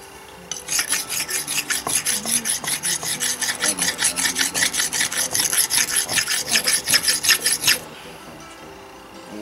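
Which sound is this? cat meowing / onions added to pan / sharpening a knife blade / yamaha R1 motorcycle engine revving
sharpening a knife blade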